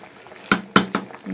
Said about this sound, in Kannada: ಒಂದು ಸ್ವಲ್ಪ ಬೇಯಬೇಕು ಜಾಸ್ತಿ ಹೆಸರು ಕಾಳು ಹಾಕಿದ್ದೀನಿ